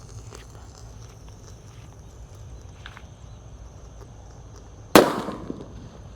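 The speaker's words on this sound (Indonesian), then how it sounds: "Lanjut di sini ada mercon petir guys," A thunder firecracker goes off in a hole in the ground with one sharp, loud bang after several seconds of quiet outdoor background, followed by a short decaying echo.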